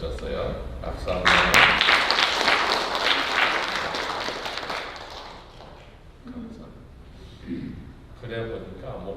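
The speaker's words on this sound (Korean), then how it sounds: "박수 한번." Audience applause fills a Korean Baptist church service, a dense wash of clapping that swells loud early, then thins and fades as a voice resumes speaking.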